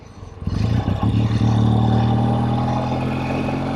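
A 1964 Triumph Bonneville T120 motorcycle, freshly restored, roars up close as it pulls away and settles into a steady, loud engine drone while riding on the road, with no talking.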